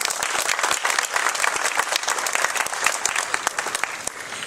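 Sustained applause from an audience at a Prince George's County Council event on new fire and EMS apparatus, greeting Council Chair Andrea Harrison; dense, steady clapping with many hands throughout, loud and close.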